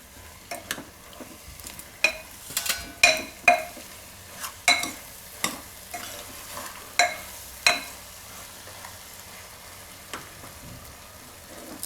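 A spoon stirs mixed dal and bottle gourd curry in a pan. Close, rhythmic scrapes and clacks sound against a low, quiet simmering hiss, with no talking.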